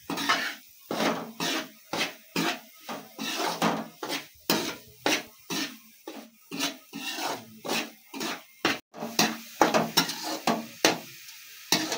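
Halwa with milk, sugar, dry fruits and coconut being stirred and roasted in a pan in a village kitchen, a steady rhythm of close scraping strokes, about one or two per second, over a soft sizzle, with no talking.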